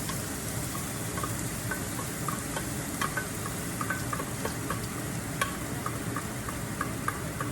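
Garlic sizzling and crackling steadily in hot oil in a pan while making spicy beef noodle soup broth, a dense continuous fry with sharp pops and ticks scattered throughout, close and even in level.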